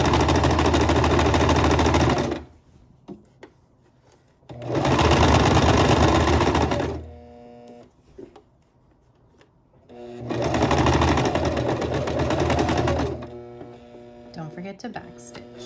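A sewing machine runs in three loud, steady bursts while stitching a pocket on an envelope dress, with quiet pauses and a person talking between runs.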